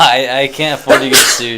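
A single sharp, breathy sneeze bursts out in the middle of a casual conversation, with people talking just before and after it.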